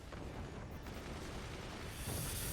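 Continuous gunfire from the strategy game Forts, a dense barrage of overlapping shots and booms forming a steady noisy roar throughout, no voices.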